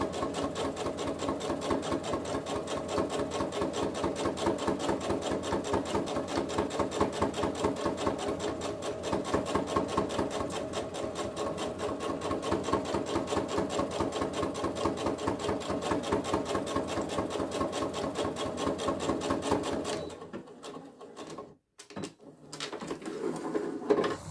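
A domestic sewing machine stitches a lined zippered pouch in a fast, steady mechanical rattle for about twenty seconds, then stops, leaving a few faint clicks and handling sounds.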